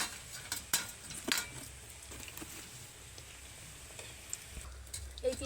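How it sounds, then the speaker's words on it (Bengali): Bengali nimki fry quietly in oil with a faint, continuous sizzle, a few sharp utensil clinks against the pan standing out, and no talking. "এই 3টা ভাজা হয়ে গেলেই কিন্তু নিমকি ভাজা আমার কমপ্লিট হয়ে যাবে।"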